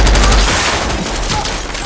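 A movie shootout with heavy gunfire, a dense loud fusillade of rapid overlapping shots and booming impacts in a police station, continuous with no talk.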